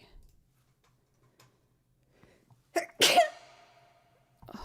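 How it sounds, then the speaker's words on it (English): A single sharp sneeze rings out with a reverb tail in an otherwise quiet room, followed by faint ticking. "Oh, reverb sneeze."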